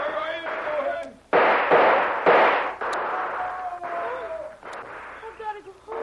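Gunfire in a radio drama: a rapid series of sharp loud shots and bursts, several close together, with voices speaking in between the blasts.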